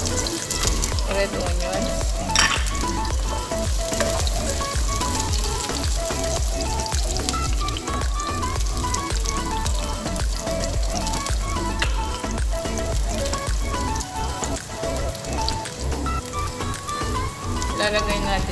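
Red onions sizzle steadily in a hot pan for sautéed clam soup, a continuous crackling fry heard close throughout.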